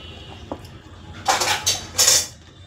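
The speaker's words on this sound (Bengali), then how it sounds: "নামিয়ে নিয়ে আমি কড়া ধুয়ে ফিরে আসছি" A metal kadai is handled and washed, with a few clanks and scrapes followed by two bursts of splashing, scrubbing noise close by, with no talking.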